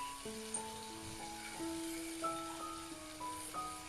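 Bitter gourd sizzling in hot oil as tamarind water goes into the pan, a soft, steady hiss and crackle heard close up with no talking, while faint tonal background sounds drift over it.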